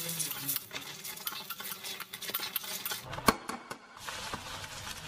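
A spoon scrapes and stirs spiced gravy in a pan, with irregular metallic clinks and taps over a soft sizzle, close and moderately loud, with no talking.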